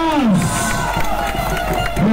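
A political rally crowd for presidential candidate Pedro Castillo claps and cheers under a loud amplified announcer's voice, with steady clapping and crowd noise behind the speech.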